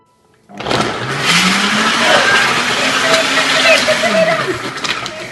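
Electric blender mixing dry cake ingredients, starting abruptly and whirring loudly and steadily for several seconds with a wavering motor pitch.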